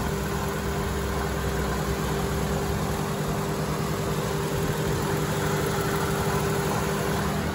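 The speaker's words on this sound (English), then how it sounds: "My phone does pick up small engine valve train noise." A 2009 Toyota Sienna engine idles steadily under the hood, an even hum with a faint ticking valve-train noise, close-up and continuous without talk.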